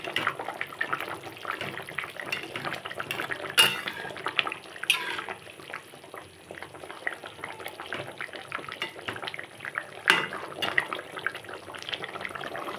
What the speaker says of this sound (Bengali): এখন তরকারিটা খুব ভালোভাবে ফুটছে